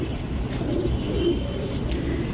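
Breeding pigeons kept for tournament flying coo softly in a low, steady murmur, a continuous close-range burble with no talking.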